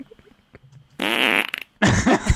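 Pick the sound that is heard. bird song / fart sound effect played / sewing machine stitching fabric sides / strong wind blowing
fart sound effect played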